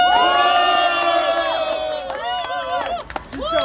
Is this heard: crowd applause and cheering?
yes